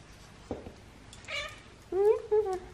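A fluffy white pet cat gives two clear meows up close near the end, preceded by a softer mewing sound, in a quiet room.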